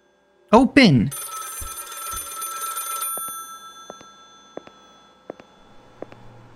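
A bright electric telephone bell rings for about two seconds in the Lakefront Restaurant dish-washing horror game, right after a brief vocal outburst, followed by a low hum and scattered small clicks.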